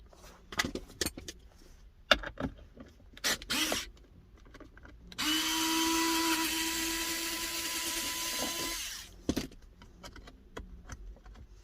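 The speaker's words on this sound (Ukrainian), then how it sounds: "Далі відкручуємо цей торкс на 20." A cordless screwdriver whirs steadily for about four seconds, backing out a Torx T20 screw from the centre console of a Renault Espace 4. Clicks and handling taps of plastic trim come before and after, close and fairly quiet.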